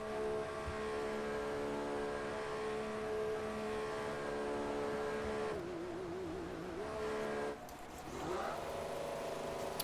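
An F1 2014 race car drives into the pit lane, its engine a steady, loud whine that drops and wavers as it slows, with a brief dip in level near the end.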